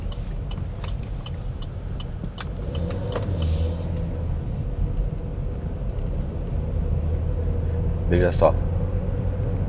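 A car rolls down a hill in gear, and engine braking pushes its revs past 3,000 rpm. A steady engine rumble swells slightly toward the end, and a voice speaks briefly near the start.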